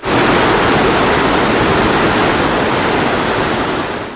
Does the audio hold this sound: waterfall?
yes